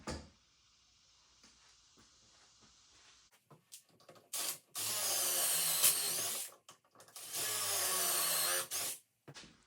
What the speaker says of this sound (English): So I'll drill those real quick.